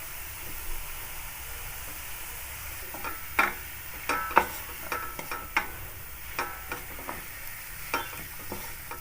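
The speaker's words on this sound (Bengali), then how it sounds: "এটা শাকটা মোটামুটি ভাজা হয়ে গেছে, এর মধ্যে আমি চাল বাটাটা দিয়ে দিলাম।" Khesari greens frying in a kadai with ground rice paste added, a soft steady sizzle broken by repeated scraping strokes of a spatula, close up, with no voices.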